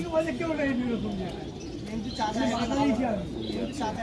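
Pigeons coo in low, repeated throaty calls close by, over a busy background of voices and crowd noise at a pigeon market in West Bengal.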